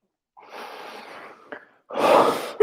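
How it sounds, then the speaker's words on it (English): A person exhaling during a breathing exercise in a kettlebell workout: a soft, drawn-out breath, a brief catch, then a stronger, louder exhale ending abruptly, with no talk. "Exhale for 4."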